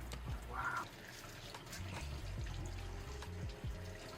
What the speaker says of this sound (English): I rinse these off really quick when I peel them apart so no bleach on the edges gets into the image